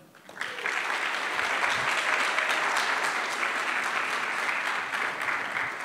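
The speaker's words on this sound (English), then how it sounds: "So let's give a round of applause for Amanda." An audience applauds to welcome a speaker at a business talk event in New York, with clapping rising quickly and then holding steady and dense throughout at close range.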